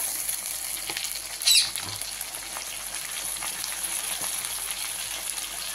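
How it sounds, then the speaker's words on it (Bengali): Hilsa fish heads sizzle steadily in hot oil as a spoonful of ginger paste goes in, with a continuous frying hiss, a brief louder splash and clatter early on, then an even crackle. "মাছের মাথা ভাজা হয়ে গেছে, এবার আমি দিয়ে দিচ্ছি এই যে 1 চামচ আদা বাটা"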